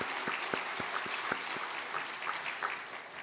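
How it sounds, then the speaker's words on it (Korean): A church congregation at a special dawn prayer service applauding together, a short burst of dense clapping that holds steady for a few seconds before easing off. "감사의 박수 한번 드리겠습니다"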